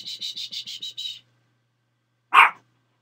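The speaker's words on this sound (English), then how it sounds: "Why do dogs always bark?" A quick run of about seven high, evenly spaced chirps fades out, and after a pause a dog gives a single sharp bark nearby.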